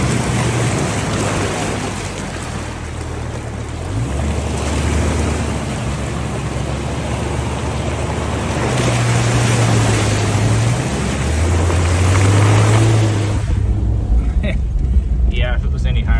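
A lifted Jeep XJ on 31-inch tires crawls in four-low through a flooded creek, a steady low engine rumble mixed with rushing, sloshing water throughout, with a voice talking over it.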